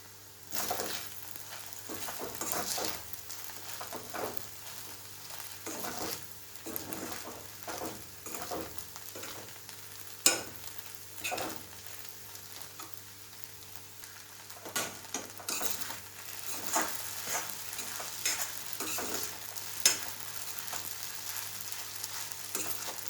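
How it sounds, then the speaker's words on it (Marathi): Sabudana khichdi with crushed peanuts is stir-fried in a pan: a soft, low sizzle runs under repeated scrapes and clinks of the spoon, faint and irregular, with no one talking. "यामध्ये आपण आता शेंगदाण्याचा कूट घालूया, परतून घेऊया।"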